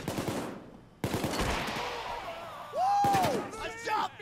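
Rapid gunfire in PAYDAY 2 as a taser enemy is shot, with bursts of shots over game noise and an electronic whine. People talk excitedly during the shooting.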